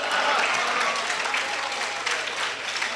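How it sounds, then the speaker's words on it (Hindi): Audience applause after a Hindi-Urdu shayari recital, a dense steady wash of many hands clapping at once, loud and sustained throughout with no voices. "तालियां जारी रहे, शायरी होती रहेगी"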